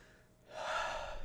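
A person takes a single breath in, quiet at first then swelling into a broad, airy rush that holds steady, demonstrating breath recognition for the Mercedes-Benz Vision AVTR concept car's central control unit.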